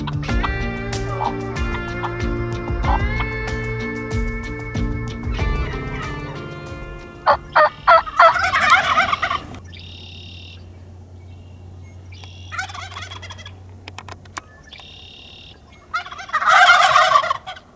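Wild turkeys gobble in the Colorado mountains in repeated rattling bursts, some loud and close, others farther off, with a low steady hum running underneath.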